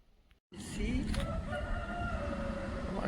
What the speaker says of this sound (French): le coq il chante l'après-midi, lui.